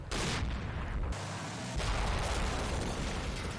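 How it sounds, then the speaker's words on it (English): A T-90 tank fires on an enemy tank in the Combat Mission wargame, heard as a loud, sustained blast and rumbling boom that fills the short clip with no talk. "another T-90 spots and engages an enemy tank"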